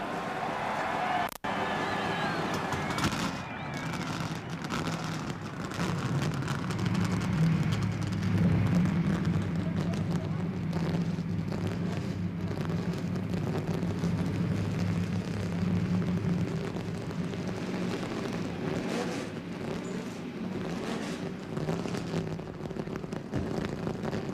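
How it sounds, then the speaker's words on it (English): Stock car engines fire up at Daytona for the 1997 Busch Clash, a continuous low rumbling roar of many NASCAR V8s that swells and holds steady, heard from a distance across the track. "Gentlemen, start your engine."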